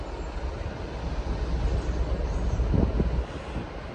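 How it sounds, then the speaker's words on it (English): A freight train hauled by a class 60 diesel locomotive rumbles through a station, a steady low roar with rhythmic wheel clatter swelling near the middle before easing off. "there's a freight coming through, so here it is"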